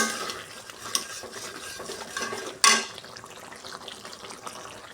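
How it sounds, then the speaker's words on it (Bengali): A Kashmiri chili powder mixture is stirred and sautéed in a pan, with close scraping and stirring noises from a spoon against cookware and one sharper clang partway through. "আমি এটিকে ভালো করে কষিয়ে নেব।"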